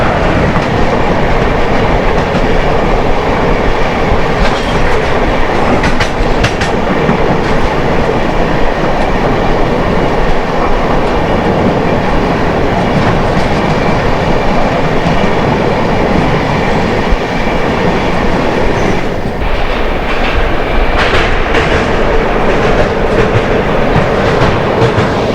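The 12949 Porbandar Santragachi Kaviguru Superfast Express rolls past with a loud, continuous rumble and rhythmic wheel clatter over the rails, steady throughout with no talking.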